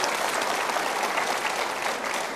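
Brief burst of steady, full studio audience applause on a television game show, many hands clapping evenly and fairly close with no speech over it.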